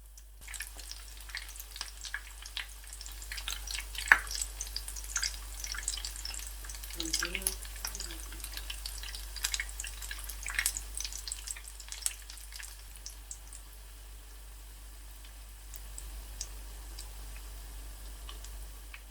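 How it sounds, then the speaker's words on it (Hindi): Aloo tikki potato patties fry in a pan, making a continuous crackling sizzle with dense tiny pops, loud and close at first and easing slightly toward the end, under a low steady hum. "अभी तकरीबन 10 मिनट के लिए मैं टिक्कियों को फ्राई करूँगा"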